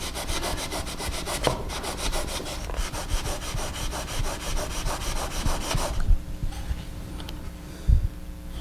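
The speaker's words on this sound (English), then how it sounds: "just push and pull the jig in really short movements" A planer knife held in a jig is pushed and pulled in short, quick strokes across sandpaper, giving a steady, rhythmic rubbing rasp that is close and fairly quiet and then thins out near the end.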